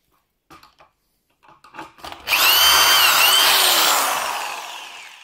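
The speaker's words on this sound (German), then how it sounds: "Dann setze ich den Bohrer an." A power drill bores a hole in wood through a Wolfcraft dowel jig, starting after a few soft handling clicks and then whirring loudly and steadily for about three seconds before winding down.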